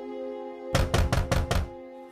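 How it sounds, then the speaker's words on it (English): Heavy banging on a mansion's front doors: four loud, evenly spaced thuds in a quick row, close and forceful, with a steady sustained hum underneath. "there was a banging on the Mossler doors."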